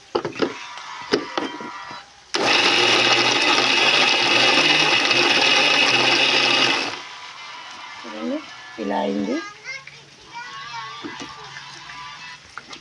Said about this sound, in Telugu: ఇప్పుడు దీన్ని నేను మిక్సీ పట్టుకుంటున్నా